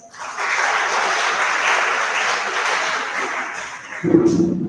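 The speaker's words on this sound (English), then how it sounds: "Let's all give a warm round of applause" A workshop audience gives a sustained round of applause to welcome a guest speaker. The clapping swells quickly, stays full for several seconds, then a voice comes in just as it fades.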